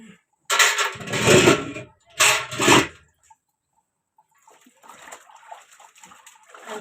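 Clothes washed by hand with water give two loud, close bursts of splashing and slapping, then quieter sloshing and dripping afterward.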